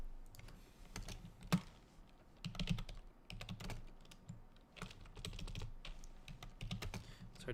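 Uneven bursts of typing on a computer keyboard, soft clustered key clicks with short pauses and an occasional louder tap, close by in a quiet room.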